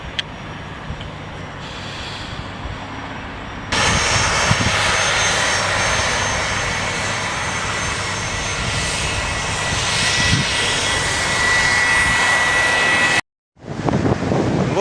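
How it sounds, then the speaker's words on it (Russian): An airplane lands on a runway near Rotterdam, its engine noise a loud, steady roar that swells sharply partway through and holds, then cuts out briefly before resuming near the end. "Самолетик."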